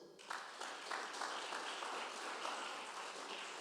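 A church congregation claps together in sustained, dense applause, steady and moderately loud from start to finish.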